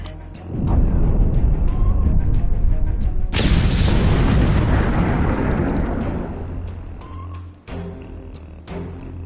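A huge explosion booms in Star Trek Online, a loud rumbling blast that starts abruptly after a deep low drone and rolls on for several seconds before fading, followed by a sharp secondary burst near the end.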